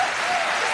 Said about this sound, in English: They're getting a standing ovation from the crowd here in Museum Plain.